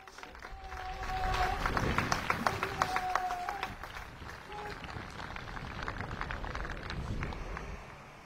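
Outdoor crowd clapping for a trained dog display at the Ekta Diwas celebration in Kevadia, rising to a brisk patter, then settling into a softer rumble over distant tonal notes and general crowd noise.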